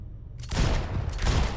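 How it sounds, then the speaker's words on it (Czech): Gunfire in the video game Max Payne 3 breaks out after a quiet moment, a dense burst of shots and booming impacts that swells, dips briefly and surges again. "Aha. Dobre, tady se střílí."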